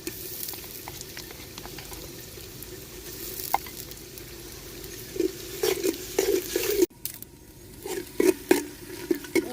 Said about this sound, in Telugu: కొంచెం వేగాలండి అల్లం వెల్లుల్లి పేస్ట్